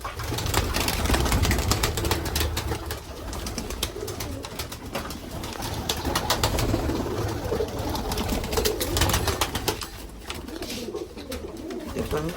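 Pigeons coo softly and continuously inside a loft, with a steady mix of low throaty calls and wing rustling at close range, and no talking.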